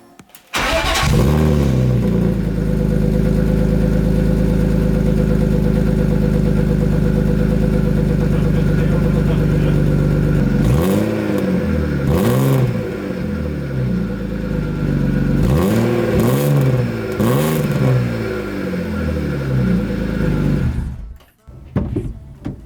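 Car with a freshly swapped engine, an old beater, starting for the first time: a loud, close engine idles steadily, then the throttle is blipped repeatedly in rising and falling revs before it cuts off abruptly.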